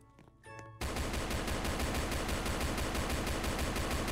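Rapid automatic gunfire from a Roblox Brookhaven game erupts suddenly after a few quieter clicks, then keeps rattling loud and unbroken in a fast even rhythm.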